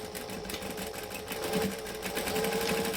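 A domestic sewing machine stitches a quarter inch seam on joining stitch length for a crossbody bag, a steady close mechanical whirr running continuously and alone.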